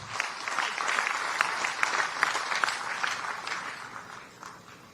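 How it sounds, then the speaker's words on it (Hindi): Audience applause at a government job fair in Bihar, steady dense clapping from a sizeable crowd, fairly distant and even, tapering slightly at the end, with no talk over it. "जोरदार तालियां"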